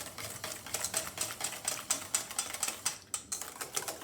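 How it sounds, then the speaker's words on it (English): A whisk beats the wet ingredients for chocolate chip walnut muffins in a bowl, making quick, evenly spaced clicking strokes that are close and fairly quiet. "I'm going to whisk that together."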